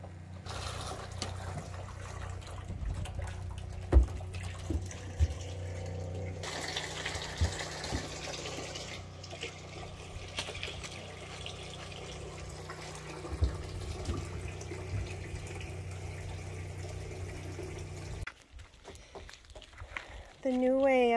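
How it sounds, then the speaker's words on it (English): Water runs from a tap into the water tank of an off-grid converted school bus, a continuous gushing fill that carries on steadily under occasional speech before cutting off near the end. "The new way of filling up the water."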